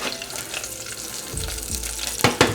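Cumin seeds, mustard seeds, garlic cloves, a dried chili and curry leaves fry in hot oil with a close, steady crackling sizzle, broken near the end by a few sharper spattering bursts as the pan is stirred.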